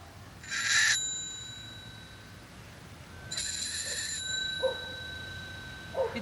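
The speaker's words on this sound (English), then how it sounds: "a curious thing happens when I touch it on the bell of my bicycle" A piece of dry ice is pressed against a metal bicycle bell, making it ring out in two clear, shimmering bursts that hum and fade, followed by small clicks and taps.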